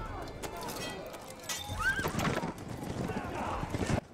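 Horse hooves clip-clop and a horse whinnies amid a wagon chase in Outlander, with a short rising neigh near the middle, all under talk and busy background sound.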